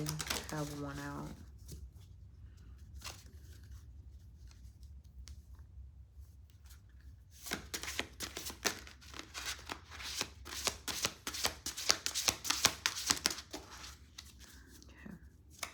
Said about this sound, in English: So I tell it to shuffle and pull one more.